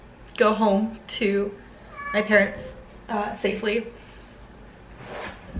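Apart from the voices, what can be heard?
cat meowing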